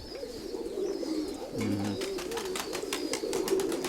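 Pigeons in a loft coo repeatedly in low rolling phrases close by, with some light clicks and rustling and no talking.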